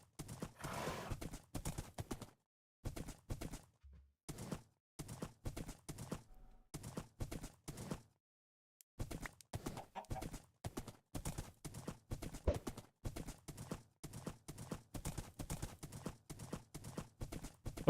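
A horse in the Minecraft video game clip-clops through a forest, its hooves beating in quick repeated bursts broken by short pauses, crisp and close with no talking.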